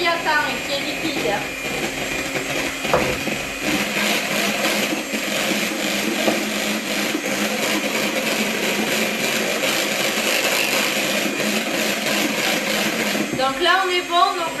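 Electric mixer whipping egg whites for a lemon tart meringue while hot syrup is poured in: a loud, continuous whirring drone with a rattling, slightly pulsing texture, and a voice speaking near the end.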